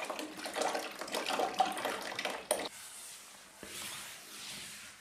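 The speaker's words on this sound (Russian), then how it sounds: "вот сливаю с него теплоноситель" Heating system coolant drains from one circuit of a private house's heating system, a steady rushing, splashing water stream that is louder and rougher at first, then settles into a softer continuous trickle.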